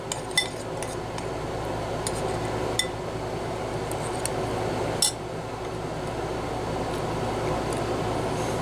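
A spoon stirs skyline chicken chili in a pot, giving scattered metallic clinks and scrapes over a steady low background hum, close and moderately loud.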